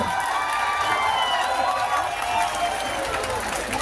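Protest crowd at Jantar Mantar in Delhi gives a continuous loud wash of cheering and applause, steady and enveloping without a break.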